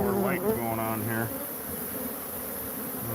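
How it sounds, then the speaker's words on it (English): Insects buzzing inside an underground nest dug into the ground, a steady droning hum that stays close and fairly loud, with a person speaking over it during the first second. "European bees would never ever build underground like this"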